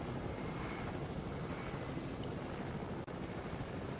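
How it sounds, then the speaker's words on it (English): Helicopter in the Fortnite video game, a dense steady rotor and engine roar filling the whole stretch at constant loudness, with one brief dropout near the end and no voices. "the first time I'm actually gonna be flying a helicopter"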